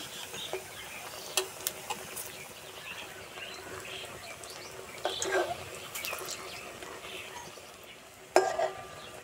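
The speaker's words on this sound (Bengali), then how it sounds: "আস্তে আস্তে জাল দেবো আর ভাজবো।" Semolina-filled pakan pitha frying gently in oil over low heat gives a steady, soft sizzle, with a few sharp clinks of utensils against the pan.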